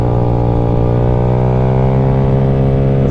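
A Yamaha Zuma 158cc scooter with a BBK kit accelerates hard, its engine note steady, loud and close. The buzzing drone holds a strong, even pitch for the whole stretch, and no one speaks.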